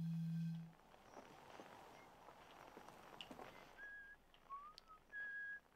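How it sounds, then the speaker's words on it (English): Whistled notes come through in the Outer Wilds video game near Attlerock. A few thin, clear tones appear after a faint low hum, with soft rustling and footstep-like sounds in the background. "You whistling on the Addle Rock, sounds like."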